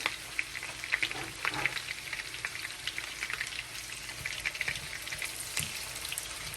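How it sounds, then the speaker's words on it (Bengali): Chopped onion, about a cupful, frying in a pan over medium-high heat, an even, continuous sizzle with bright crackling spits, close and moderately quiet. "তো এটাকে মাঝারি থেকে একটু হাই হিটে, মাঝারি হাই হিটে আমি ভাজতেছি।"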